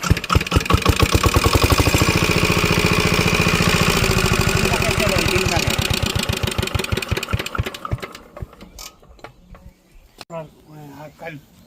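A shallow irrigation pump engine watering a potato field chugs loudly in fast regular pulses, then winds down and stops near the end, followed by scattered knocks with voices talking nearby.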